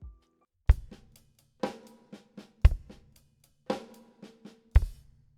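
A drum rudiment pattern played slowly on a kit, with snare strokes and hi-hat taps and bass drum hits landing on the accented beats, spaced apart and close up with no voices.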